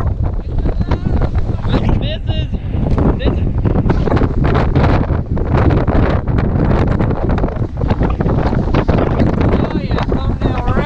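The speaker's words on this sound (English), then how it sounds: "It's all gonna be wind" Heavy wind buffeting a microphone on a beach by the water, a loud continuous rumbling roar with a voice speaking briefly through it.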